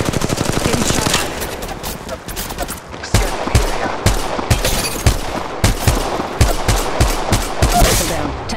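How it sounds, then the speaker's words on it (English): Rapid gunfire from the Apex Legends Mobile video game: dense automatic bursts and repeated sharp shots, loud and close throughout, with a brief lull near the three-second mark before the firing resumes. "Getting shot at."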